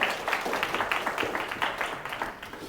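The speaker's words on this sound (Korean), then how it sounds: "이용 부사님께 다시 한번 큰 박수 부탁드립니다." Moderate audience applause at the close of a Korean defense-industry seminar lecture, a steady patter of many hands clapping, fairly even and mid-distance, with no talking over it.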